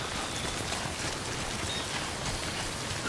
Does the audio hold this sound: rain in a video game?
yes